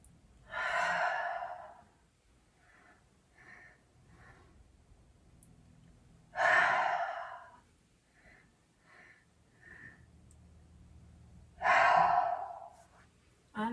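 Deep, slow yoga breaths during a gentle stretching session: three long, airy exhales spaced about five seconds apart, close and clear, with faint softer breaths between them and no talking.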